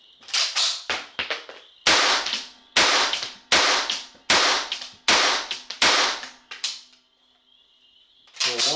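Savage A17 .17 HMR semi-automatic rifle firing about ten loud, sharp shots in an uneven sequence, each with a short ringing decay, followed by a quiet pause and one more crack at the end.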